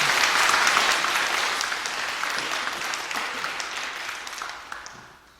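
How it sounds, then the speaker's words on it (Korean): A Korean church congregation at a Sunday worship service gives a sustained round of applause, a dense crowd of clapping that starts full and gradually thins and fades over several seconds. "다시 한번 격려의 박수 한번 주십시오"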